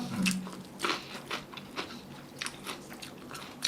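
Crisp vegetables and Korean shellfish in a miang wrap being bitten and chewed up close, a run of crunchy bites and wet chewing crackles at an uneven pace, fairly quiet, with no talking.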